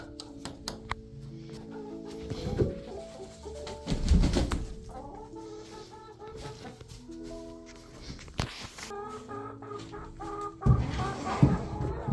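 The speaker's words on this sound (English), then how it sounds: "time for me to head out to feed and let the chickens out of the coop" Hens clucking and cackling around a homestead chicken coop in the morning, a close flock with irregular bursts of calls and a few louder squawks over light background noise.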